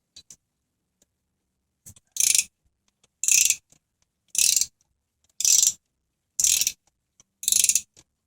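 A wrench ratchets in six short bursts on a spinning brake caliper bolt during front disc brake work on a 2008 Toyota Sienna, each burst a close, crisp clicking with quiet gaps between and no talk.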